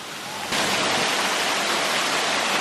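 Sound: waterfall

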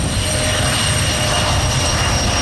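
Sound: airplane moving at Charlotte-Douglas Airport

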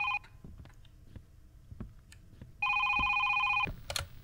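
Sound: telephone ringing in video game Is Simon There?

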